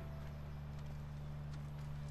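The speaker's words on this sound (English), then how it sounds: "Sorry for stealing your horse." A horse's hooves clip-clop at a steady walking pace in The Last of Us video game, soft and fairly faint beneath a constant low game-ambience hum.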